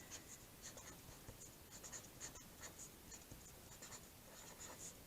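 Pen writing a greeting onto a handmade pop-up card, a steady run of soft scratchy strokes close by, with no voices.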